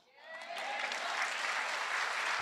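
A congregation at a Tagalog preaching service breaks into applause that swells quickly from quiet and holds as a dense, steady wash of clapping at a moderate distance.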